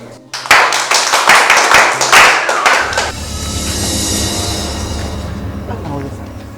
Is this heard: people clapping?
yes